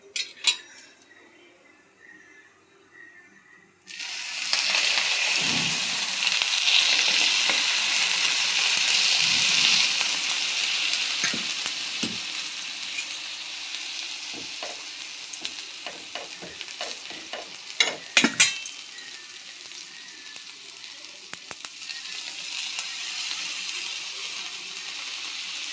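Milk hits a hot pan for buttermilk bread, bursting into a loud sizzle that settles into a steady frying hiss, with scraping stirs and clinks of a utensil against the pan throughout.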